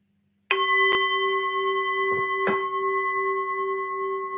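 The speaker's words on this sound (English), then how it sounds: "let's ring the bell." A single bell is struck and rings out with a clear sustained metallic tone, then is struck again about two seconds later, close and alone, its ringing lingering to the end.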